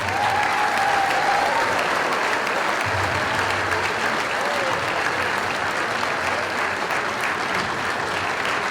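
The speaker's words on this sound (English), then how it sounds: "Please, one more round of applause for your alumni." A crowd in a high school boys basketball gym applauds the alumni, giving loud, continuous clapping that holds steady for the whole stretch, broad and reverberant with little else over it.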